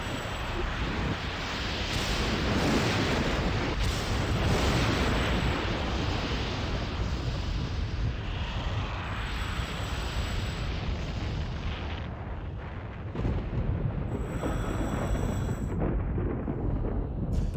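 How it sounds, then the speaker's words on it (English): An antimatter bomb detonates inside a box canyon on an alien ice world in a video game, a long roaring blast that rumbles steadily, then drops off and flares again with lingering echoes. "The antimatter bomb detonates inside the box canyon."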